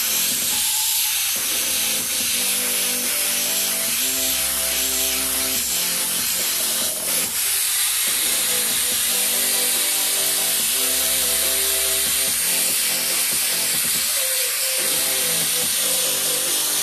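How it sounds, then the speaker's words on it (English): An airbrush sprays fuchsia paint onto a hat as a steady, close hiss that runs without a break under a background of music. "Pretty much just gonna paint this solid fuchsia and then shade it."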